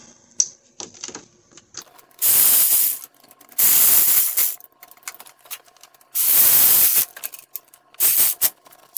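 An impact wrench snugs up wheel lug nuts on a 2011 Ford Fusion, firing in three loud hissing, rattling bursts of about a second each, close up, with light clicks and clatter in between.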